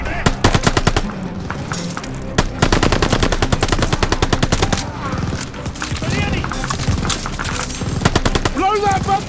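Sustained machine gun fire in the World War II shooter Call of Duty Vanguard, rapid bursts rattling almost continuously under the din of battle, with shouted voices breaking through.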